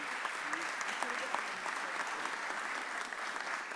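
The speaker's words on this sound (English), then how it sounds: "Can we clap it up for the Honorable Mayor Cherelle L. Parker?" An audience at a mayor's press conference on extended school year applauds, faint and steady throughout, with a voice heard faintly over it.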